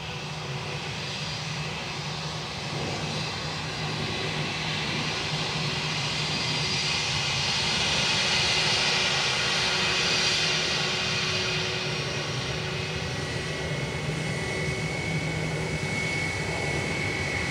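A Ryanair airliner landing on runway 28 left at Dublin Airport produces a continuous, broad engine roar that swells gently and holds at a steady distance, with no talk.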